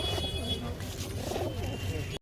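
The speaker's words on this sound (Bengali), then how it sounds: "বন্ধুরা দেখতে পাচ্ছ কতগুলো রেশার পায়রা আসছে" Racing pigeons at a pigeon market give soft, steady cooing over a constant low crowd murmur, with faint chatter in the background and the sound cutting off abruptly at the end.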